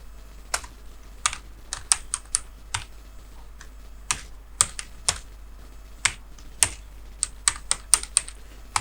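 Computer keyboard being typed on in short bursts of crisp key clicks with brief pauses between, close and clear in a quiet room, no voices.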